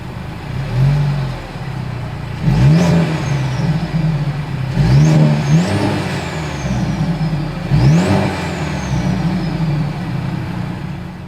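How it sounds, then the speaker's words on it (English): Mercedes-Benz E-Class exhaust revved three times while parked, each sharp rise in engine note falling back to a steady, fairly loud idle rumble between blips, with no talking. "As always, here is that exhaust clip."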